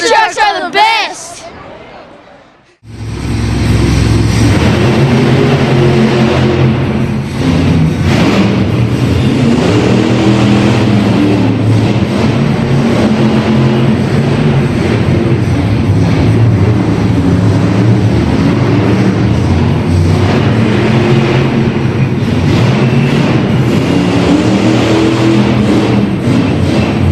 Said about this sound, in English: So here we are at the Monster Trucks up in Reno.